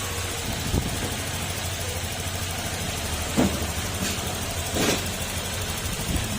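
A Honda Click 125 scooter engine, just repaired with a manual cam chain tensioner, idles steadily nearby, a constant buzzy hum with a few brief blips in revs and some background noise.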